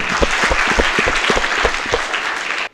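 An audience of school students and guests at a high school in Hyderabad claps loudly for students, a burst of dense applause with a few sharper individual claps standing out, cutting off abruptly.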